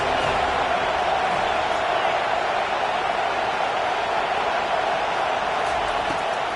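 A college football stadium crowd roars on third down to back the defense, a constant, dense wash of cheering noise with no break.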